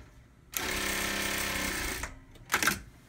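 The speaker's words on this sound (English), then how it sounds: "if I sew, the machine will automatically cut the thread" A CT-8700 sewing machine stitches at a steady, close whir for about a second and a half, then stops and gives a short mechanical burst as its automatic trimmer cuts the thread.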